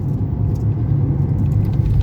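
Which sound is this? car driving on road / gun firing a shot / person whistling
car driving on road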